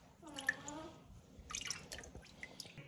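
Lard melting and cooking in a pan, giving scattered soft drips and light sizzling pops at close range, with a brief busier burst of crackle midway and no one talking.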